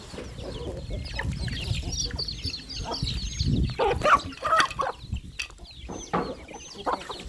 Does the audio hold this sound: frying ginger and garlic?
no